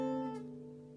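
An acoustic guitar chord from a song rings out after a change, sustaining and slowly fading, close and alone.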